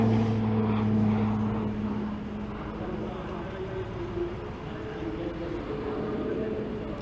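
A Shorts Tucano turboprop trainer pulls through the bottom of an aerobatic loop at an air display, its engine a droning hum that swells and then eases, while a commentator talks over it.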